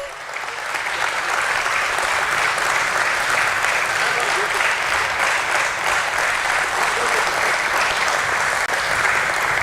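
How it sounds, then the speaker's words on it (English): Loud, steady applause fills a hall at the NaBFID Limited listing ceremony at BSE, a dense wash of many hands sustained evenly for nearly ten seconds as the function concludes. "So let us have a resounding of claps as we conclude the function"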